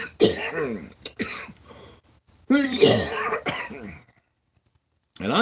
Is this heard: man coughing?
yes